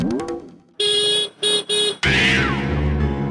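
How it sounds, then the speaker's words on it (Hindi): Several loud, sustained car horn honks in short bursts, followed by a long blaring horn mixed with engine rumble, close by. "ये तो सकाराम की हॉर्न की आवाज है।"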